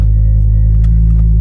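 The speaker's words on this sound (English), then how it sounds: "Cold start is on, so it's nice and loud." A Ford Focus ST225 engine rumbles steadily at a loud, low cold-start idle, close by, with a few faint clicks over the drone.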